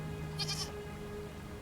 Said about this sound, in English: Hello, goat. You are beautiful.